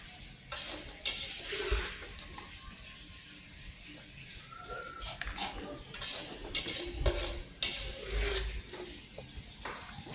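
Vegetables sizzle in a hot pan while a utensil stirs and scrapes against the metal, making steady frying hiss with irregular clinks and scrapes up close.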